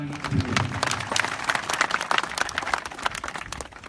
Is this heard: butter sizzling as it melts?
no